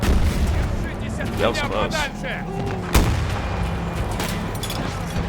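Battlefield 2042 combat brings scattered gunshots and a sharp nearby blast amid distant rumbling artillery, while someone speaks briefly over the action.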